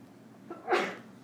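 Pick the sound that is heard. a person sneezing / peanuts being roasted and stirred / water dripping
a person sneezing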